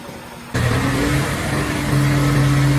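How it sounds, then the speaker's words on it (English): A gas-powered wood chipper roars to life outdoors, its engine catching abruptly after a quiet start and settling into a loud, steady running hum with slight rises in pitch. "The gas-powered wood chipper comes to life in the open air"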